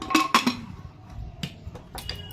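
A lid is placed on a cooking pot of potatoes in a home kitchen, giving a few quick, close metallic clinks and clatters. Softer knocks and taps follow, fairly quiet overall.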